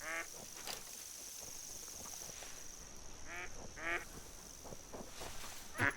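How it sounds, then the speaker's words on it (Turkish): Ducks quack in the video game TheHunter: Call of the Wild, short repeated bursts, a few calls spread across the clip over a steady high-pitched hum, moderately distant. "Evet ördek sesleri gelmeye başladı"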